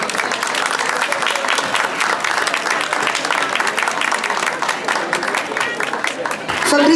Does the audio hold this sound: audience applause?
yes